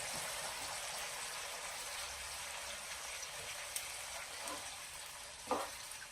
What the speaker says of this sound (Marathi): अशी आपली फोडणी तयार झालेली आहे.